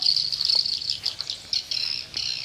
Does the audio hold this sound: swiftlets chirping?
yes